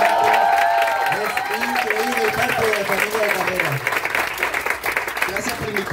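An audience at the grand final of an improvisers' contest bursts into applause and cheering, the crowd noise loud at first and then easing into steady clapping, with a voice speaking over it.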